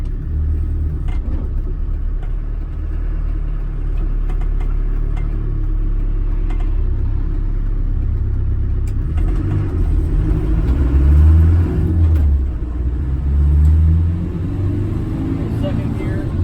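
Left-hand-drive Land Rover Defender 200tdi diesel pulling away and working through the gears, a steady low engine rumble that swells and dips as it shifts, heard from inside the vehicle throughout.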